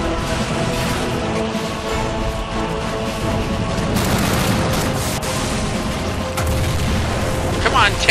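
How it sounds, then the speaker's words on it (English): Tanks fire and blasts go off in the war video game Army Men of War, a steady barrage of loud booms and crackling gunfire layered over dense battle noise throughout. "There are tanks now attacking it."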